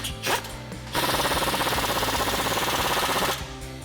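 An 8mm Allen socket on a ratchet tightens Allen bolts on an ICON suspension lift install, a rapid mechanical clicking burst of about two and a half seconds, close and fairly quiet, framed by brief softer clicks.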